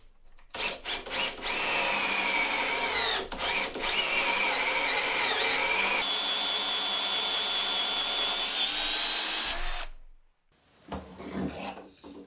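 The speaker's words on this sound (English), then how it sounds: "so now to get it chucked up in the drill and give this a go" A power drill spins a cutter boring into wood for a small stool, a loud sustained whine with shifting pitch and rasping bite that runs for several seconds, stops abruptly, then gives way to quieter rustling.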